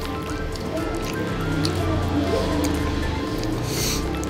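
Ketoprak with lontong is stirred in a bowl, making close, wet squishing and sticky sloshing sounds that run steadily over a busy background with faint voices.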